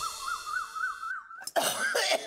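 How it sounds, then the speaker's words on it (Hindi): Coughing from a person with a cold in a Hindi comedy TV serial scene: a few harsh, close coughs after a sustained whistling tone, loud and dry, with no speech over them. "पता नहीं कहाँ से सर्दी और खांसी हो गई"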